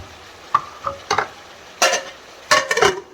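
Chicken frying in oil with spices. Short, close bursts of sizzling and hissing flare up as the pan is stirred, separated by brief quiet gaps, with no talking.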